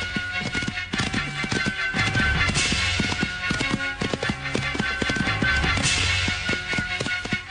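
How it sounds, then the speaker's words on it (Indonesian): Horses' hooves clip-clop in a dense, continuous rhythm, loud and close, as if several horses are moving together. No one speaks over it. "Itu kuda mereka."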